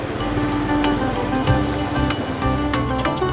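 Steady rain falls in a continuous, even hiss during a trip through the rain to bathe in the Ganges, close and fairly loud throughout with no talking.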